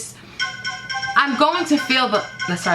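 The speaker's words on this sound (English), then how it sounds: "that's my phone." A mobile phone's ringtone plays a chain of bright electronic tones at moderate volume, then carries on underneath a person talking.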